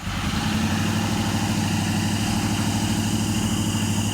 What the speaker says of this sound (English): She's idling a little low.